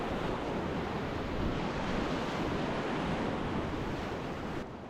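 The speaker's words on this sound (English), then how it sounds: "No big holes, just big waves." Big standing waves on a staircase rapid of a desert river at flood stage, a loud continuous roar of churning water with wind buffeting nearby, steady before easing slightly at the very end, no voices.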